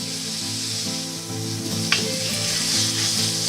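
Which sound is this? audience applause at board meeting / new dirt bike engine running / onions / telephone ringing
onions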